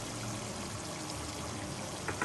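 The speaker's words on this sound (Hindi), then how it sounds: "अब इसके अंदर जो है मैं शामिल करूँगी ये अदरक लहसुन का" Ginger garlic paste drops into minced meat frying in a karahi for Shinwari qeema, giving a dense, steady sizzle with wet bubbling, close and loud with no talking.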